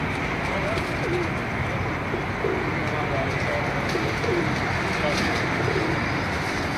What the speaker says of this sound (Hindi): ये जी सारे कबूतर हैं